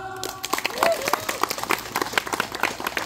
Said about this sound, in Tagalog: isa mo ng malakas na palakpak